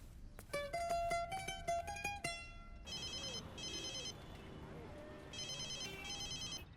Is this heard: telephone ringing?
yes